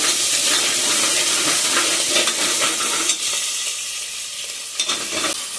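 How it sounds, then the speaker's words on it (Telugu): Curry leaves crackling and sizzling in hot oil for a potato tomato curry, a loud, dense spitting hiss near at hand that eases slightly toward the end, with a few sharper pops. "కరివేపాకు నూనెలోనే వేస్తా అండి"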